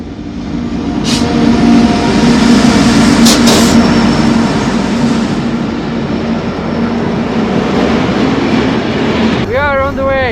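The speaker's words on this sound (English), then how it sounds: "I think the train that's gonna push us has finally arrived." A train rumbles up alongside a stranded train in the desert, a loud steady rail roar with a few sharp clanks, and a squealing tone near the end.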